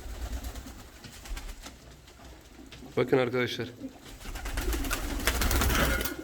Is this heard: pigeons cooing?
yes